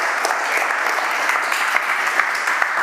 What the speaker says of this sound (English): give him a good applause and a beautiful applause